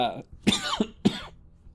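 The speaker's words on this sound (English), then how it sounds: "apologies for the cough, guys." Three quick, dry coughs from one person, close and fairly quiet, spaced about half a second apart.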